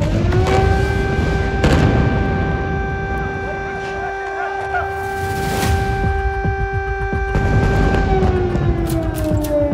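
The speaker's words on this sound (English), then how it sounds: "siren की आवाजें आप सुन सकते हैं" Air-raid sirens wail in Ashkelon during a missile attack, a loud sustained tone that holds steady then slides down near the end, with voices and street noise beneath.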